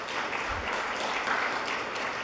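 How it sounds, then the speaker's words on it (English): An audience in a conference room claps in a steady, moderate wash of sound that stays fairly even and soft throughout, without cheering. "let's give them a round of applause."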